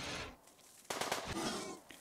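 Bursts of automatic gunfire from a Rimworld colony battle against a mechanoid, a dense volley starting mid-clip with a few scattered shots around it, fairly loud and with no talking.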